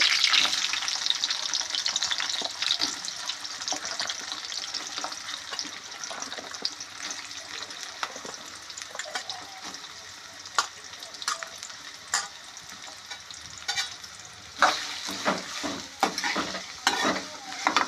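Chopped onion pieces sizzle steadily as they fry in a pan, with repeated scraping stirs breaking through the hiss, louder and sharper toward the end; no one speaks.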